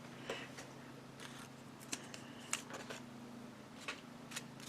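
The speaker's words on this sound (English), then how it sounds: "These little Christmas icons are so easy to cut out and use." Scissors snipping out small Christmas paper icons: quiet, scattered single snips and short clusters of cuts over a faint background hum.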